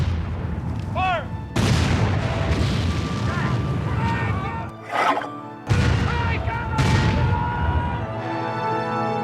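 Cannon fire at an American Civil War battle reenactment in Arkansas, with two loud, heavy booming blasts that roll on for several seconds each, a shouted command and voices heard between them.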